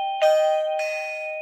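A wifi doorbell chime rings as its button is pressed, giving two clear electronic ding-dong tones that ring out and sustain, close and moderately loud, with no talking.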